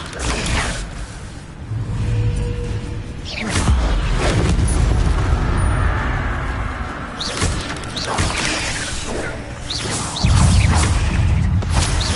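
Levioso levitation spell cast several times in Hogwarts Legacy, with creaking, mechanical rumbles and whooshing surges between thudding impacts over a sustained, busy game backdrop.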